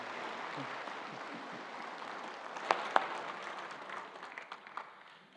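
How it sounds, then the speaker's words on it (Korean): Soft church congregation applause during a Korean Sunday worship service, celebrating a scholarship for a baby, faint and distant-sounding with a couple of sharper claps standing out. "축하할 때 박수로 축하하기 바랍니다"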